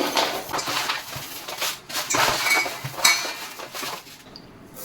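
Raw rice is measured with a cup into a metal vessel, giving a few rattling pours and clinking metal knocks, close and moderately loud with brief quiet gaps between.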